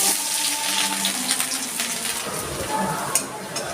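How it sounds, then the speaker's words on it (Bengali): Ginger and garlic frying in a little oil in a pan for chickpea bhuna, a steady, close sizzling hiss at even loudness with faint clatters and a small knock near the end. "আদা রসুনটা ভাজা ভাজা হয়ে গেছে"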